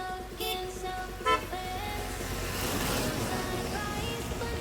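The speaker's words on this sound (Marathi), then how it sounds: "गाड्या आलेल्या आहेत मला वाटतं." Cars arrive on a road during a monsoon bike trip to Pali, with steady engine and road rumble throughout and a couple of short horn toots partway through.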